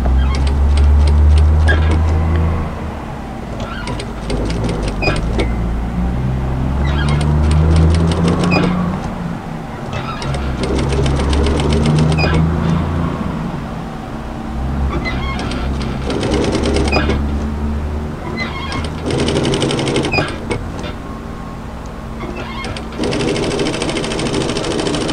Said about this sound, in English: So I'm going to sew a couple of stitches and just lift up the presser foot to help just ease that in